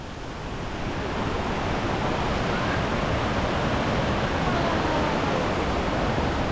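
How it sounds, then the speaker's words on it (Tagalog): Rushing water roars steadily at a remote waterfall, Gabaldon Falls in Nueva Ecija, as a dense, loud, continuous wash that swells after the first second and fills the whole scene, with no voices. "Liblib na falls."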